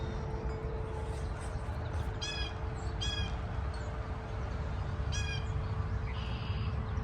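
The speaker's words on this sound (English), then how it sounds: "There was the red-winged blackbird." A red-winged blackbird calls in a backyard with three short, buzzy, trilled bursts at middle distance over a steady low outdoor hum.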